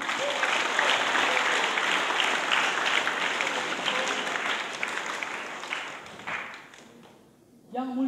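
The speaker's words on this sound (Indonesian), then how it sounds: "Dengan tepuk tangan yang paling meriah." An audience at a seminary welcome ceremony for a visiting bishop claps with dense, lively applause for about six seconds. It then tapers off, and a voice begins to speak.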